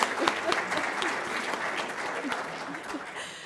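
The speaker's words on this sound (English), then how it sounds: "Let's give her a round of applause" A church congregation applauds the Holly Queen at a Winter Solstice service, a steady wash of many hands clapping at moderate volume for a few seconds with no one speaking over it.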